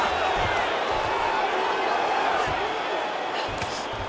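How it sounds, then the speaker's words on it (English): Crowd roaring and cheering at a women's mixed martial arts fight after a long ground exchange, a steady loud wash of arena noise filling the whole stretch with no break. "you heard the crowd pop after that grueling ground battle"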